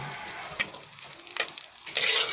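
Butter sizzling in a frying pan over medium-low heat, a steady soft crackle with a few sharper pops and stirring scrapes, close and alone.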